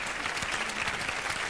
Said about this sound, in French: Maintenant, arrêtez de t'applaudir.